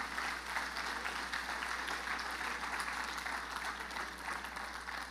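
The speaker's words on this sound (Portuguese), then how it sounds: "Vamos receber o Ralph aqui com uma salva de palmas, né" A church congregation applauds to welcome a visiting missionary speaker, giving steady, dense clapping that continues evenly for several seconds without letting up.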